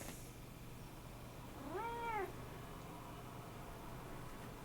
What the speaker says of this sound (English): My cat's always climbing on me when I'm painting.